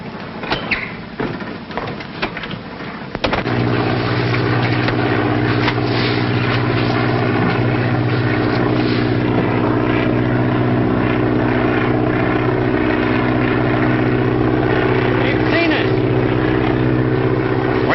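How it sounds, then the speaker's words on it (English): A propeller airplane in a classic film drones loudly overhead, a steady, heavy engine roar that swells in after a few quieter seconds and holds for the rest of the clip. "Is a plane coming?"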